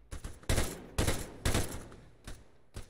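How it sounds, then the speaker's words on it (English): Bursts of rifle fire in the military shooter Arma 3 crack down a street in a mission. Several sharp shots come in an uneven rhythm, a few loud and close and the rest fainter, with no talk over them. "Watch this street, they're shooting down the street."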